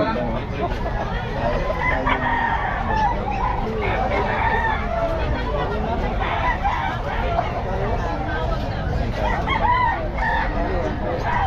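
Early bird gamefowl stag of the WPC line, about eight or nine months old, crowing repeatedly at a busy Bocaue pet market, close by amid crowd babble and people talking.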